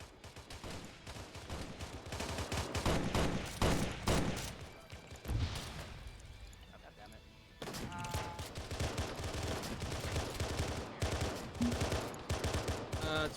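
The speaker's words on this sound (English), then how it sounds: "They're shooting him in the leg." Gunfire in the Arma OPTRE video game, with bursts of rapid automatic fire and scattered single shots crackling continuously, a short lull midway before the shooting resumes at full intensity, and faint voices underneath.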